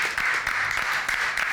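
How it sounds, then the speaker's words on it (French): Applause from a small group cheering players at a game reaction session, a steady dense patter of clapping filling the short stretch with no talk over it. "Si on peut les applaudir,"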